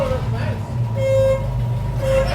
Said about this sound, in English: It's a cute little horn.